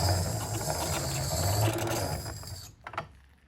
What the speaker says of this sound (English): you can turn it the other way if you want to grind the other direction.